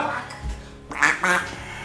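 A duck quacks twice in quick succession, nasal and fairly close, over a steady hum of background noise.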